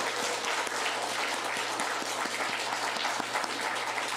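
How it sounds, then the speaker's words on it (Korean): A church congregation applauding the choir at a Sunday worship service, steady dense clapping from many hands filling the room for a few seconds. "우리 오늘은 찬양대를 위해서도 우리 한번 박수 한번 주세요"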